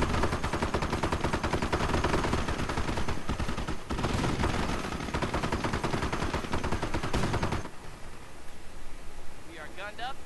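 Rapid machine-gun bursts and rifle fire in the WWII strategy game Company of Heroes: Tales of Valor, dense continuous volleys that thin out near the end, with battle noise layered underneath.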